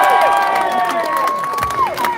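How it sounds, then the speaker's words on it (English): Protest crowd in Braintree, England, breaking into cheers and applause, with sustained whoops and shouts riding over continuous clapping, loud and close, tapering slightly near the end. "one more big round of applause."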